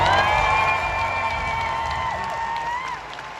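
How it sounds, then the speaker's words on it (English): Crowd at a Pokémon championship venue applauding and cheering, loud mixed clapping and whoops with tonal voices that taper off slightly toward the end. "I want you to give one more massive venue-shaking round of applause for Alex Shemansky."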